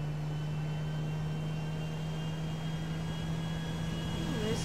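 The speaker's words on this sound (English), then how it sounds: "There's a private jet right there." A private jet's engine in a video game, a steady, even drone with a constant low hum and a faint high whine that holds without change throughout.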